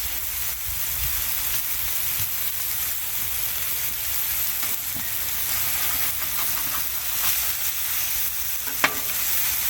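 Smash burgers sizzle steadily on a 28-inch Blackstone griddle, a loud continuous frying hiss with a small clink near the end and no voices.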